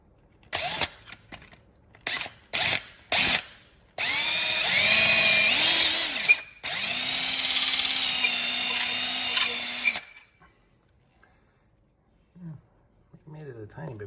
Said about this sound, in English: just gonna try to drill this hole out a little bit bigger.